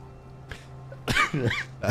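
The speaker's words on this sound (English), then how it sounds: "Ignore the fact that I just coughed." A single person coughs in a few harsh bursts, close up, with a brief throat noise just before, recorded indoors during a tabletop role-playing game session.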